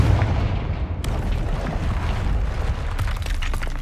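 A Confringo blasting spell bursts in the Hogwarts Legacy video game, giving a loud, continuous rumbling explosion with a sharp crack partway through and crackling debris toward the end.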